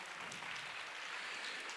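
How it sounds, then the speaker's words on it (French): Applause from an audience at a French Socialist political gathering as a European Parliament member is introduced, a steady broadband wash of clapping at moderate, even level for under two seconds. "vous pouvez l'applaudir"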